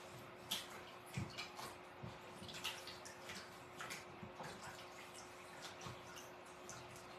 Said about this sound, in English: I would just go to my kitchen sink and I would run the water